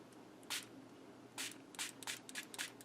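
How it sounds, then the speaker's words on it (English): A handheld spray bottle mists water onto shaved watercolor pencil lead in short, close bursts, one then several in quick succession, soft and hissy. "And now I'm going to spray it again."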